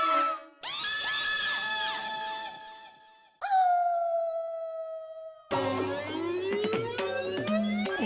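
A dog howls in a series of loud, drawn-out wails with sliding, wavering pitch, each rising and falling before breaking off, heard close and alone with no talking.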